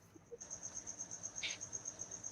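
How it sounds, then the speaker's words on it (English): Crickets chirp in a video game's virtual surround sound, a high, steady pulsing trill that is faint but continuous after a brief quiet start. "The virtual surround sound, it's like they're all around me. The crickets."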